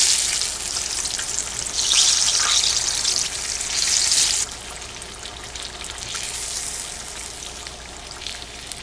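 Crappie fillets sizzle and crackle in hot oil, a loud, dense frying hiss that runs continuously before dropping to a quieter, steadier bubbling partway through.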